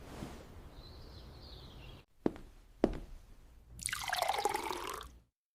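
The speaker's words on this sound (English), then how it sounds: "I pour some water." Water being poured, a bright broadband rushing stream lasting about a second and a half after two sharp clicks, close and fairly loud with no talk.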